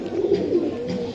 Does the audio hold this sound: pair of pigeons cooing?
yes